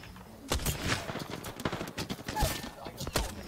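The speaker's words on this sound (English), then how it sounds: "Did he shoot you from all the way over there?" Video game gunfire in a first-person shooter, a dense spray of sharp shots and impacts with people talking over it.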